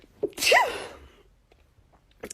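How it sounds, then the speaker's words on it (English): A single loud, close sneeze bursts out with a sharp intake and a hissing release that fades over about half a second, followed by quiet. "Apparently have sneeze attacks."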